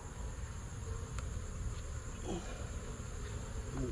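Honey bees buzzing in an open hive during a routine inspection, a dense continuous hum close to the microphone with occasional faint frame handling sounds underneath.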